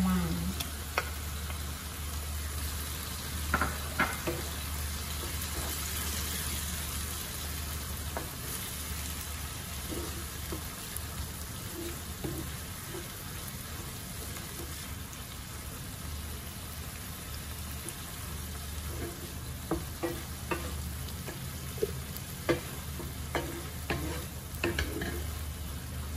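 Filipino shrimp paste (bagoong alamang) with onion, tomato and garlic sautéing in a pan, a steady low sizzle broken by scattered spoon stirs and scrapes, close by with no talking.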